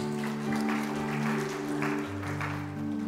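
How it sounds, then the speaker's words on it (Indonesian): Congregation applauding at a church service, a steady broadband patter of many hands filling the space throughout, with a sustained organ or keyboard tone held underneath. "Boleh kasih tepuk tangan buat Tuhan kita?"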